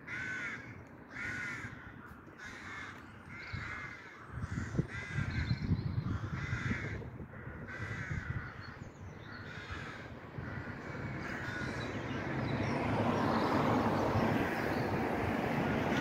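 Crows busy nesting at Hillend, Dunfermline, give repeated harsh caws in a rhythmic series, fairly close, over a low outdoor rumble that swells toward the end.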